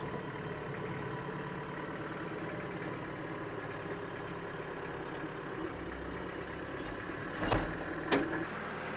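Tractor engine running steadily while moving logs with pallet forks, a continuous mid-pitched rumble throughout, with two brief sharp metallic clanks near the end.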